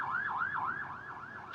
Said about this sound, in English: you can hear the fire trucks and the police cars going by.